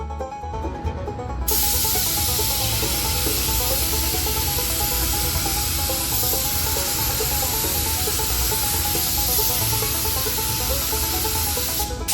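Spray gun laying primer onto a John Deere 4440 tractor during restoration, a loud continuous hiss that kicks in after a brief start and holds steady for the whole stretch, with no talking.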